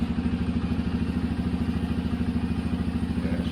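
A Yamaha TTR125LE motorcycle engine idles nearby with an even, rapid single-cylinder thump, a steady low pulsing with light mechanical clatter and no talking.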